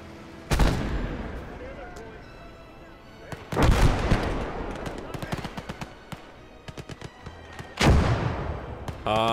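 Mortar rounds in a war video game land in three heavy, booming impacts spread several seconds apart, with sharper cracks of gunfire scattered between them and a voice talking over the action.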